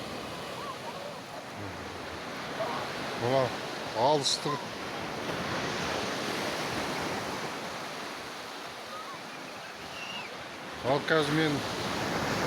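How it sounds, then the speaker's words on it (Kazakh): Sea waves wash steadily onto the shore at Alanya, Turkey, in a soft continuous surf hiss. A person speaks briefly over it twice, and the water keeps going underneath. "Мінекей жан-жақтың бәрі толқындар"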